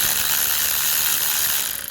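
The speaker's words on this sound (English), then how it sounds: "Take the bottom starter bolt off, which is behind there, 18mm." Ratchet working on the 18mm bottom starter bolt of a 2009 Audi A3, a steady fast clicking whir of the pawl, close and continuous for about two seconds.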